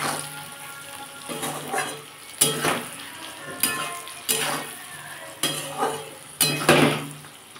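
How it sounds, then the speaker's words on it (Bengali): Beans with turmeric and salt stirred in a hot pan for a Bengali bean dish, a steady sizzle broken by repeated scraping strokes of a utensil against the pan, close and fairly loud, with no talking. "এবার এটাকে ভালো করে নাড়ব"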